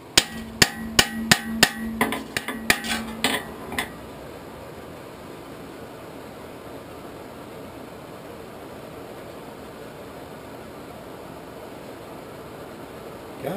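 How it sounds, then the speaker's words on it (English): About a dozen sharp metallic hammer strikes ring out in quick rhythm, cold forging metal for an Appalachian fire shovel, then stop, leaving a quiet steady background hum. "Now we can just take our hammer and sort of cold forge this right down where it goes."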